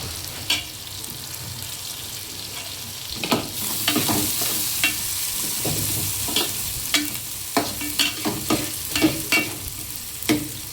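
Green chillies fry in a pan for a fish curry base, a steady sizzle with repeated scraping stir strokes in an irregular rhythm, close and fairly loud, no talking.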